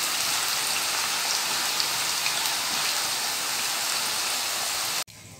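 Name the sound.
potato chips frying in oil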